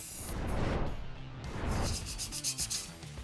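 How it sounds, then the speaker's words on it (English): Sandpaper rubs over Rust-Oleum primer on a rusted car rim, close, steady back-and-forth scraping strokes in broad rhythmic swells. "make sure we sand the surface to a nice smooth finish to get ready for our top coats"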